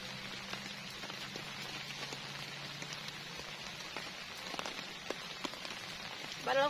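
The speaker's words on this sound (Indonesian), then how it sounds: "nggak taunya beneran malam ini hujan" Steady rain patters on a surface at night at a mountain campsite during a solo hike, a dense continuous hiss of drops with scattered louder individual hits and no voices.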